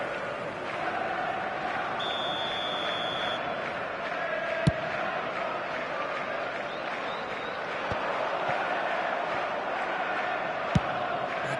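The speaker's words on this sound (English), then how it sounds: "the crowd are reacting to that now" Steady stadium crowd murmur and swelling noise in a football video game match, continuous throughout with faint whistle-like tones and a couple of sharp clicks; no talk over it.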